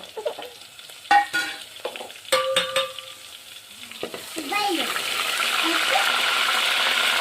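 Crushed garlic goes into a pan, with clattering and stirring at first, then settles into a rising, steady hiss of frying oil, close by.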